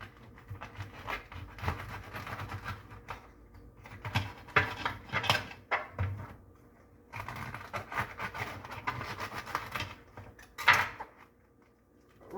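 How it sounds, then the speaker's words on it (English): A knife slices the ends off a fresh green loofa gourd, giving a run of close cutting, scraping and knocking sounds in two bursts separated by a short pause, with no talk. "sometimes with most of them I'll actually cut off the ends first"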